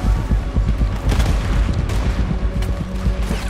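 Cannon fire aimed at a boat during a Red Dead Redemption 2 battle on the water, heard as repeated heavy booms and crackling gunfire layered over one another, loud and sustained throughout with no clear pauses.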